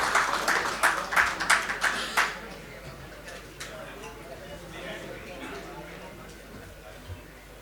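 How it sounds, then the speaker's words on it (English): A conference audience at a tech day event in a hotel gives brief scattered applause. Distinct individual claps come in a quick run, then fade into low murmuring and ambient crowd noise. "Give a big round of applause."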